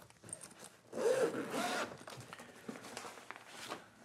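A zipper pulled open on a pocket of Level8 Vintage Collection luggage, one quick rasping run of about a second that fades into light handling rustle.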